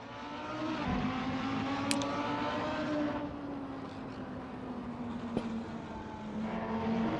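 Race car engine in Assetto Corsa droning steadily on track, a sustained tonal whine that swells and passes by with a brief Doppler-like shift, loud and continuous throughout with no talk.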